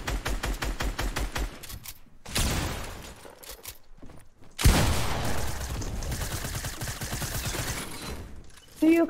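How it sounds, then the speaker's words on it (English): Video game gunfire in a multiplayer shooter: rapid automatic bursts, a pause, then longer sustained loud volleys of repeated shots, with a sharp blast near the end. "I just got sniped through the wall!"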